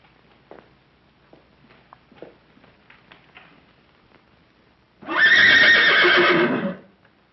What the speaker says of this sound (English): Where is his horse?